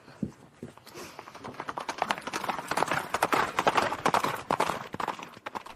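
Horses gallop off in a radio drama adaptation of Henry Fielding's Tom Jones, with quick, rhythmic hoofbeats clip-clopping close by and building in intensity.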